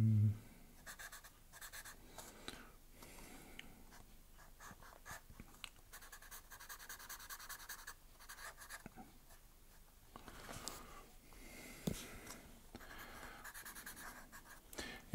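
A pen draws on paper with steady, faint scratching strokes, a continuous run of short scrapes and taps close by, with no voices.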